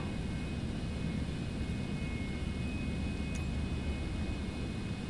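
A Citation X business jet taxiing in Microsoft Flight Simulator 2024, a steady, dense engine roar that holds even and continuous throughout without breaks.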